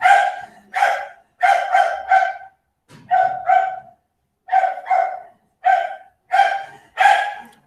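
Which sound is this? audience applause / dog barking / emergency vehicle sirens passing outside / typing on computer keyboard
dog barking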